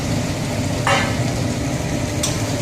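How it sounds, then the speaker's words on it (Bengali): Chopped tomatoes fry in a spice masala in the pan, giving a steady, close sizzle with a couple of brief stirring scrapes and no talk. "মশলার মধ্যে দিয়ে দেবো টমেটো"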